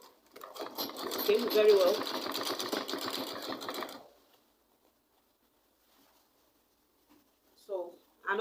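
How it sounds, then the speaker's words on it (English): A sewing machine runs steadily for about four seconds, stitching a folded fabric edge on a spiral turban. The motor hums and the needle clatters close by, then it stops and a voice speaks briefly. "So as you're sewing, make sure you fold in the rough edge."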